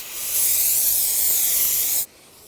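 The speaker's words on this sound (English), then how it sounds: "clean the back with some brake parts cleaner. Spray it down, wipe it with a rag" A loud, steady aerosol spray of brake parts cleaner hisses for about two seconds, then cuts off abruptly, leaving a faint background hiss.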